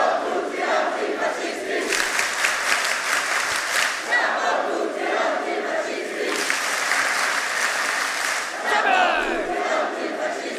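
A big rally crowd roars, chants and applauds in repeated loud swells, heard as a dense, continuous mass of voices and clapping played back from a video.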